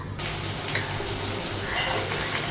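Bitter gourd fries in a pan with a dense, steady sizzle and a few soft clinks of a utensil stirring, close and continuous without any talk.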